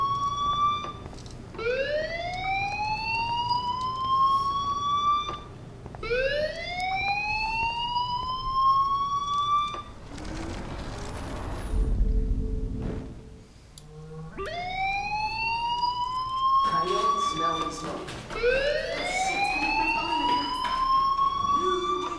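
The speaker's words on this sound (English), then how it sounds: "Hey, do you hear that fire alarm? That means you should be outside." A fire alarm in Life Is Strange wails in loud rising sweeps, repeated several times with a short break in the middle where a muffled thud sounds.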